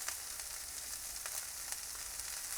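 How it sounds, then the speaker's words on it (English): Onions sweat in a pan for a sweet corn curry, a steady soft sizzle with faint crackles throughout, close and fairly quiet. "now the onions are starting to sweat"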